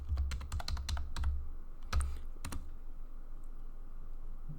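Rapid bursts of computer keyboard typing as a passphrase is entered, a quick run of close clicks with brief pauses between, then quieter trailing keystrokes.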